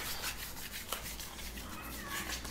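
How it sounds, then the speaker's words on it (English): Hands rubbing a Hatchimals toy egg, a soft continuous scratchy friction sound, faint and close, with no clear speech over it. "Do you want to rub it some more, Summer?"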